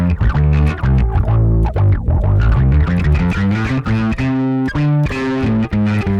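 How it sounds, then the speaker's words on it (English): Bass guitar run through an effects pedal into distortion, loud gritty notes played in a busy line with harsh buzzing overtones and wild wobbling character, close and continuous without speech. "But if you run some distortion after it, it gets a bit wild."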